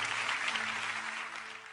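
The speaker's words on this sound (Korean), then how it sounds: "영광의 박수 올려드리십시다." A church congregation gives a short burst of applause during a worship service, dense clapping from the start that gradually thins toward the end.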